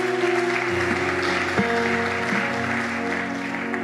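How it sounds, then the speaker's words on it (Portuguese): Church congregation applauding at a testimony service, a steady wash of clapping over sustained organ or keyboard tones, fairly loud throughout. "Vamos aplaudir a Deus pela vida do Anderson."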